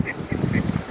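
Ducks give a few quick nasal honking calls while crossing, close by and moderately loud over a rushing, noisy outdoor background.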